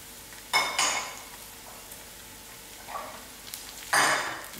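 Mustard seeds, whole garlic and green chilies fry in a pot while a utensil scrapes and clinks through a few stirring strokes, with a faint sizzle between them.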